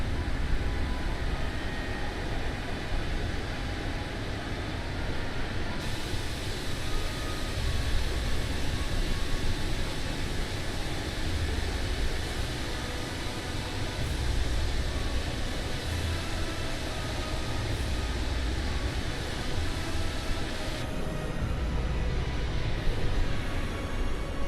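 Airbus A350 flyby in Microsoft Flight Simulator on a Helsinki to Ibiza flight, a steady broadband jet roar with a low rumble that holds throughout, shifting slightly in tone partway as the view changes.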